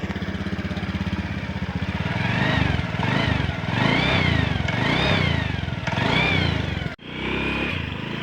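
Suzuki Avenis motorcycle engine fitted with a DIY magic whistle, idling with a close, loud clatter and then revved several times so rising and falling whistle tones sweep over the engine before it cuts off sharply.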